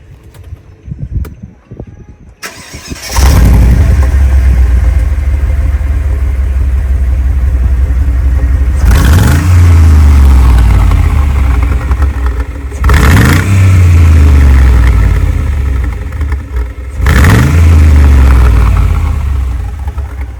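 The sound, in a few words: car engine starting and revving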